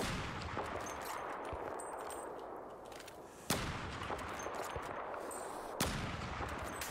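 Gunfire in the video game Battlefield 4: two sharp, isolated shots crack out a couple of seconds apart over a quiet, hissing battlefield ambience, with no talking.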